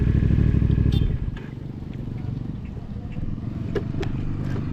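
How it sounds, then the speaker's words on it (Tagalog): A Honda Click scooter's engine buzzes loudly nearby, then drops to a lower, steadier hum as it moves along, with a faint voice underneath. "Jo, tingnan mo yan, naka Honda Click na stick na scooter."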